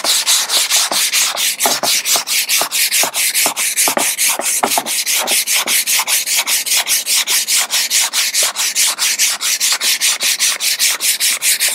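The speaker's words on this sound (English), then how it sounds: "You're feathering your sanding." Hand sanding of filler on a surfboard with 80 grit sandpaper: quick, steady back-and-forth scratchy strokes repeat loudly and evenly throughout, close up with no talking.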